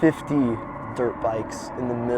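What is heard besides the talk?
No everyday noise stands out behind the speech.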